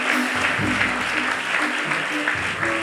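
A church congregation claps together in worship of the Lord: dense, continuous, fairly loud applause, with a voice speaking over it.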